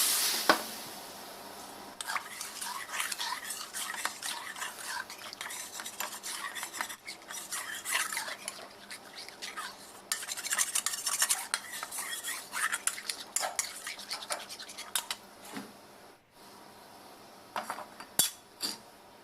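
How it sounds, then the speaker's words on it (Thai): Scrubbing and scraping in a metal wok with clinks of utensils and running water, continuous rubbing strokes at close range, fairly quiet. "มาล้างกระทะกันครับ"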